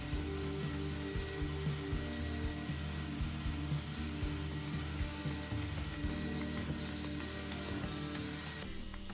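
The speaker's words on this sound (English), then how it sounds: "I'm just using a very fine sanding pad by Surf Prep" A fine Surf Prep sanding pad rubs primer on a bathroom vanity cabinet indoors, with a shop vac pulling dust, giving a steady close rasping whir with rhythmic back-and-forth strokes and no talk.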